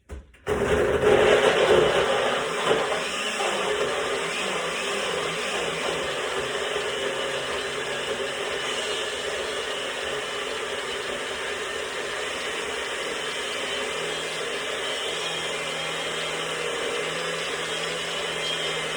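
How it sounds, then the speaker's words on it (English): A loud blender motor whirs up abruptly while blending a fruit smoothie, then runs at a steady, even drone for the rest of the clip. "I'm gonna go put it over on the blender top so that it'll start blending"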